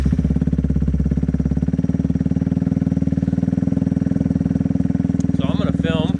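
Loud motorcycle engine, one of two new bikes much louder than a 750, running steadily close by with a strong low throb throughout; brief chirpy noises near the end.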